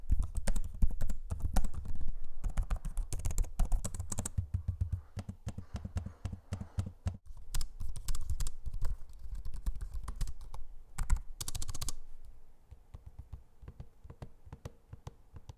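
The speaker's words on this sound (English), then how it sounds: "Here's a sample of both the keyboards and the trackpads in use so you can hear what they sound like." Rapid, close clicking of the keys on Lenovo Legion 7i and Asus ProArt P16 laptops in uneven bursts, with lighter taps and clicks from a trackpad, ending in quieter sparse clicks.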